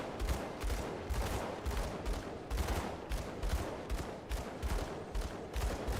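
Rapid gunfire from shooting in the action RPG Grim Dawn, a steady run of loud, evenly spaced shots that continues for the whole stretch with no voices.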